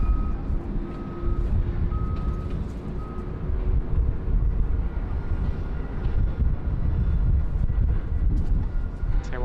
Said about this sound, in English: The Airbus A380.